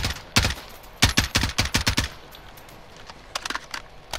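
Several bursts of rapid gunfire in Call of Duty: Modern Warfare, loud and close, clustered in the first half, then a few quieter shots near the end, with no talking.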